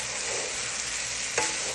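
Rice mixture with butter being stirred slowly in a hot pan, a soft continuous sizzle with a faint scrape of the spoon, one brief sharper clack near the end, close and without speech.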